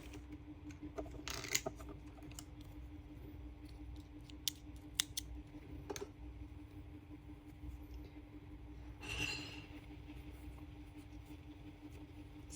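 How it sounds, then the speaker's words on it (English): Scissors snip through crochet yarn in a quiet room, giving a few short, soft cuts spread across the stretch along with faint handling sounds. "And now you can cut the yarn."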